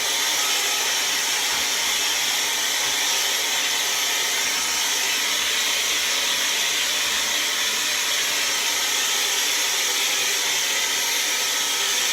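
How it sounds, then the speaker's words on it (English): A vacuum cleaner roars steadily while cleaning a bathroom floor during a makeover, a loud continuous high whine with no breaks, close by and alone. "Let me vacuum that spot real quick."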